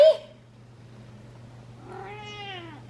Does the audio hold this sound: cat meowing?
yes